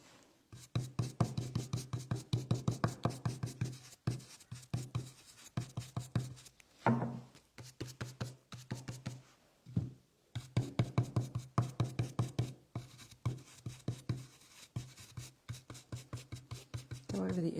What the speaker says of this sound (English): do a nice little swirling motion